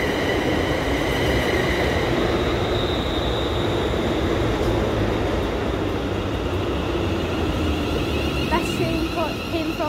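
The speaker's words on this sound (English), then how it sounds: "the train approaching now is 380-107 ScotRail service to Rainsbury" ScotRail class 380 electric train approaching the platform at Paisley Gilmour Street station: continuous loud rumble of wheels and traction hum with a rising whine and faint squeals, steady from start to end.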